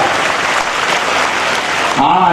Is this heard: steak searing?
no